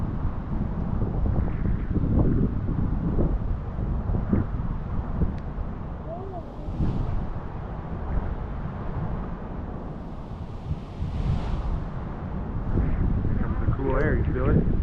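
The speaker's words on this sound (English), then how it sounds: "Here comes a cool wind." Cool wind gusting ahead of a severe thunderstorm with hail, a steady broadband rush buffeting the microphone throughout, with a voice talking faintly underneath.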